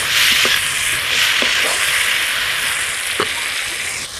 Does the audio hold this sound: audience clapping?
no